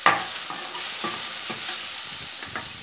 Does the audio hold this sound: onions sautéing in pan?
yes